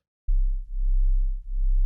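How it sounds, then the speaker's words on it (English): A detuned sine wave synth patch, a low pure tone starting abruptly and holding steady with a slow wobbling pulse in loudness, alone and fairly loud. "It's a sine wave."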